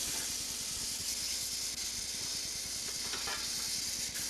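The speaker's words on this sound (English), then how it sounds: "Side steam is inserted into the standpipe." Side steam hisses steadily into the standpipe of a steel-plant coke oven, a loud, continuous broadband roar with a faint rhythmic mechanical pulsing underneath.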